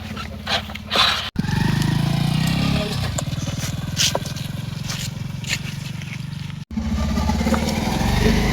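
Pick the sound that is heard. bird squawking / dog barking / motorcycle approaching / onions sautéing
motorcycle approaching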